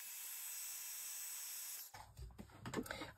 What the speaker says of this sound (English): Now I'm going to heat set that bit.